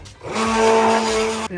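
A blender being used to make lutenitsa, a Bulgarian tomato and pepper relish, starts up and runs at a loud, steady whir for over a second, then cuts off abruptly, close by with no talk over it.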